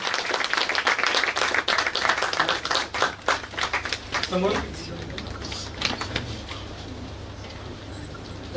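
Audience applause at an award ceremony for a media honour, steady clapping from a crowd filling the first half, then thinning out and fading to scattered claps and room murmur.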